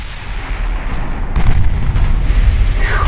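Battleship naval guns fire a heavy salvo in the naval warfare game Ultimate Admiral Dreadnoughts, with loud, deep booming blasts rolling into one another over about three seconds. No voices are heard.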